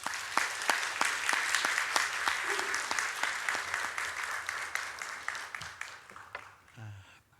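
A church congregation applauds to welcome a pastor at a youth-led Easter Sunday sermon concert: steady rhythmic clapping, close and fairly loud, tapering toward the end as a brief voice and a short tone come in.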